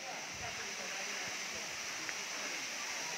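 A continuous hiss of falling water at Dabarkhola Waterfall in Badamba, Cuttack, holds steady and close, a smooth broad rush with only slight flickers of splashing.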